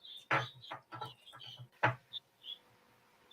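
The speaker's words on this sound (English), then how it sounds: "You hear the birds?" Birds calling outdoors, a handful of short chirps and bright calls spaced across a few seconds, fairly faint against quiet background noise.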